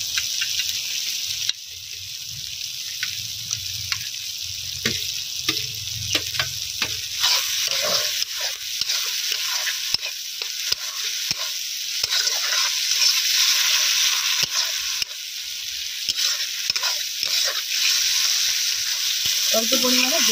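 Potatoes fry with spices in a pan, a continuous close sizzle with intermittent stirring scrapes and clinks throughout, steady and fairly loud.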